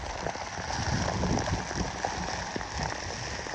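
Heavy monsoon rain pours steadily beside a swollen river in the Kabbinale area, a dense, constant hiss and patter that stays loud and unbroken throughout with no talking.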